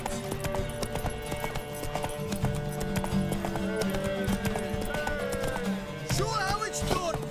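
Horse hooves clip-clop at a steady gallop in The Witcher 3, close and continuous over a bed of game music, with a brief whinny and some voices in the mix.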